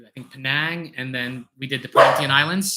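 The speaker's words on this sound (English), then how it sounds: "Sorry, that's the dog." A household dog barks in the background, a short burst of barking that overlaps ongoing conversation as a person keeps talking indoors near an open window.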